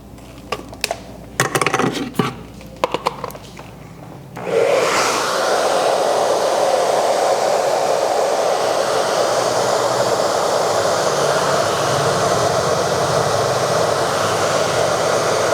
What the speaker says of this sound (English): Just working with a nice high heat to let the hair swell, but just a low speed to reduce the vibration